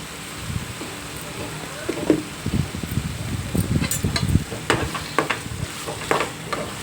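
Potatoes frying in a pan with tomato puree, chili powder and turmeric for aloo kurma, a soft sizzle under steady stirring and scraping, with occasional clinks of the spoon against the pan.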